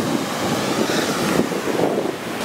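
Wind buffeting the microphone over steady surf on a beach not quite empty, a constant broadband rush of gusts and breaking waves with no speech.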